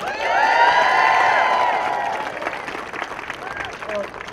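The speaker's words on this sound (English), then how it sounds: "Everyone, please give him another round of applause." Crowd applause at an outdoor March for Our Lives rally in Richmond, California, loud and sustained clapping with a few voices and cheers over it, fading slightly toward the end.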